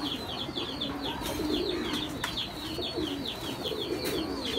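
Pigeons kept for sale coo over and over in a steady rhythm of soft calls, with light chirps and constant ambient noise underneath.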